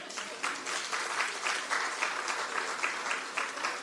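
A townhall meeting audience breaks into steady, moderately distant clapping that holds an even, slightly rhythmic patter for several seconds with no talk over it.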